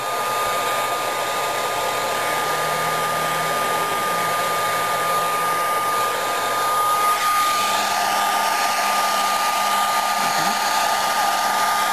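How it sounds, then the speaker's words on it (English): A hair dryer blows steadily and loudly from start to finish, its whirring tone shifting slightly midway. "we're going to dry it with a hair dryer"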